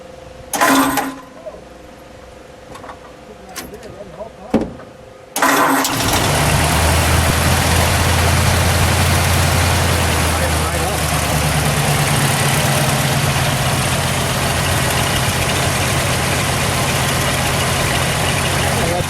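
A 1950 Ford Custom Deluxe club coupe with a six-volt system cranks briefly with a few clicks and bumps, then fires and settles into a steady, rumbling idle from its exhaust that runs on for many seconds.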